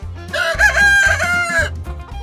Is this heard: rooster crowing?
yes